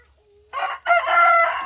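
A rooster on a Thai farm crows once, loud and close, a rising call broken by a brief gap before a long sustained crow, with no talk.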